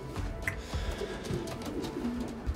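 A racing pigeon, a 2019 Polish-ringed bird kept by a champion fancier, coos softly in low repeated calls over a faint steady background.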